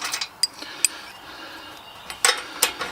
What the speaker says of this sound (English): that's just a simple matter of grabbing your ratchet